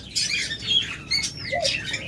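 Caged Java sparrows (Java finches) give a busy run of high, sharp chirps and short twittering calls, fairly close and continuous over a faint background hiss.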